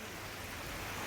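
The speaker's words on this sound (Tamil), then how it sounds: "என்ன மாதிரி மழை பெய்யுது பாருங்க பாய்ஸ்." Rain falls at a waterfall on a friends' day trip, a dense, even hiss of drops that runs steadily with no break and no voices.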